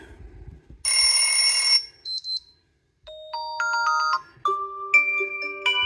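A POCO X5 5G smartphone plays a series of short alarm tones through its built-in speaker, each a distinct melodic chime pattern separated by brief silences, clear and close.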